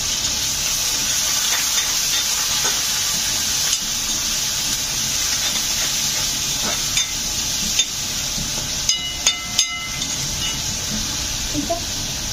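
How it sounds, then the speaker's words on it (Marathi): Chopped onion for curry gravy sizzling and frying steadily in a pan over a medium gas flame, a continuous hiss with occasional stirring scrapes near the end. "हा कांदा एकदम बारीक किंवा मीडियम गॅसवर भाजून घ्यायचं, करपायचा नाही।"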